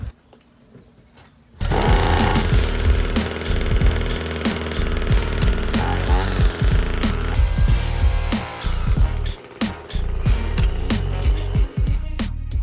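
A small two-stroke weed whacker engine runs loudly and steadily after a tune-up, with a sudden start and a rough buzzing drone. Brief revving dips and sharp clicks break the steady buzz.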